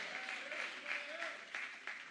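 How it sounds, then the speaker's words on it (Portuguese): A church congregation claps together in steady applause, fairly distant and roomy, with a preacher's voice speaking over it. "Vamos aplaudir ao Senhor."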